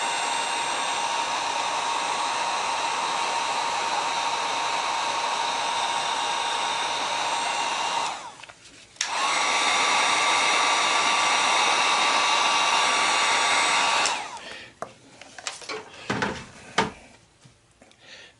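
A heat gun shrinks heat shrink tubing onto a Ryobi 12 volt battery charger wire, blowing as a loud steady whine that cuts out briefly and restarts, then stops, followed by faint handling clatter.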